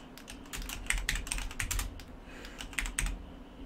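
Keystrokes on a computer keyboard, typed into a virtual machine running MS-DOS 6.22: a quick, uneven run of close, crisp clicks over a few seconds with short pauses, and no voices.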